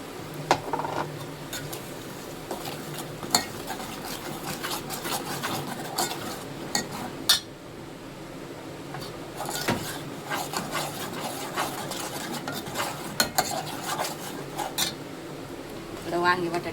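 Masala stirred and sautéed with finely cooked-down tomatoes in a pan for an eggplant and potato curry, with repeated utensil clinks and scraping against the pan over a steady background and some voice.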